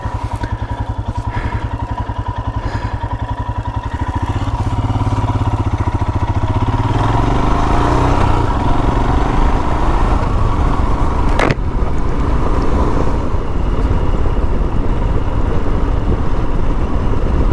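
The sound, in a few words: dual sport motorcycle engine riding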